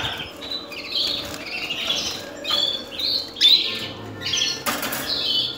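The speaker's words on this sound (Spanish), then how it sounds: "quiero mostrar este pájaro. A ver, este canario." A canary in a home aviary gives bright, rapid chirps and short trilling phrases in bursts over steady background noise, with some wing flutter.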